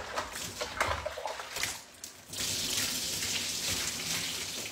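Water rinsing shampoo out of natural hair: a brief stretch of rustling and dripping, then a steady, fairly close rush of running water that continues to the end.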